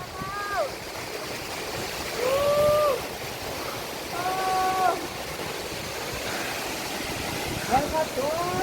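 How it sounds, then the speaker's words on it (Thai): Mae Aep waterfall in forest near Omkoi, Chiang Mai, a steady rushing wash of water heard throughout, with birds chirping in short bursts over it. "มาถึงแล้วน้ำตกไม่แอบใหญ่อลังการ"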